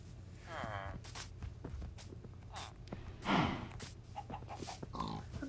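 Pigs oinking and grunting in a crafting video game, several short snorts scattered over steady footstep-like clatter and background noise, with one louder squeal near the middle.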